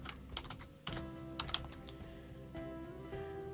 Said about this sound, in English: If I type in the word Google